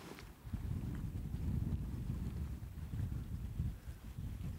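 Wind gusts across an open fishing boat on the water, a steady low rushing buffet with microphone rumble that swells and eases throughout, loud and close with no voices.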